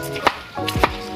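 Firewood being chopped at a jungle house, with two sharp, loud impacts about half a second apart against a steady background hum, no talking.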